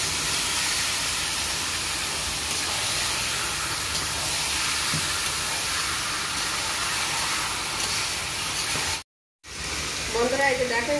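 Chicken meat dropped into spiced masala hisses and sizzles in a loud, steady wash. A brief silent cut comes near the end, then a voice begins.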